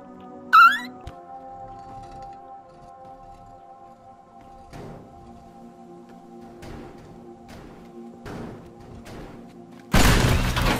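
A gas tank blows up in the destruction game Teardown, a sudden loud, wide blast near the very end after a stretch of quiet low hum and a few soft thuds.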